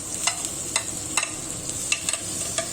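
Bay leaf, dried chilli and garlic sizzling in hot frying oil, a steady bright hiss broken by several small crackling pops at irregular intervals.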